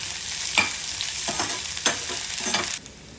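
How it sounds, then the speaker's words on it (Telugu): Finely chopped onions frying with curry leaves in hot oil, a steady sizzle broken by several sharp stirring scrapes of a spoon in the pan, close and moderately loud with no talking. "సన్నగా తరిగి పెట్టుకున్న ఉల్లిపాయలను వేసి దోరగా వేయించాలి."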